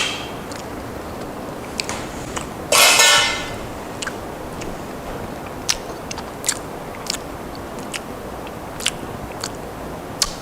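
One sharp crunchy bite into a homemade Colombian empanada, followed by quiet, sporadic chewing clicks against a steady hissing room background, no talking.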